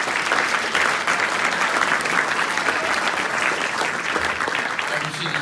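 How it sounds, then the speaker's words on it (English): Sustained audience applause in a theatre at a commemoration event, broad and even clapping from a large crowd with no break. "So let's give a big round of applause for that."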